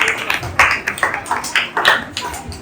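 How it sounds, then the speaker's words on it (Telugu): Church congregation at a New Year worship service clapping in a quick, uneven rhythm, a dozen or so close, sharp claps in short bursts. "Claps claps."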